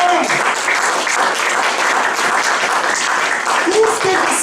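Church congregation clapping and cheering loudly together during a French-language sermon, a dense sustained burst of applause with voices mixed in.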